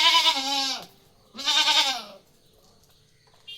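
A pregnant Malabari goat bleats twice, loud and close, each call a wavering, drawn-out cry with a short quiet gap between them.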